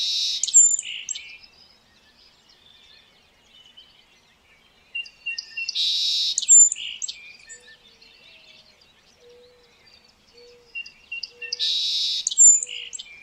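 A bird outside a window chirps in three separate bursts of quick, high-pitched calls, with quiet gaps between them.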